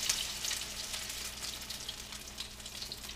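Sucker fish patties fry in vegetable oil in a skillet with a constant soft hiss and crackle at a moderate, even level, and no one speaks.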